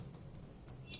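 Quiet clicks of a computer keyboard while C++ code is typed, a few soft scattered keystrokes over low background hum, slightly louder near the end.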